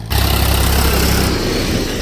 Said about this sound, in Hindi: यहाँ का ट्रैक्टर जो है कुछ ज़्यादा बड़ा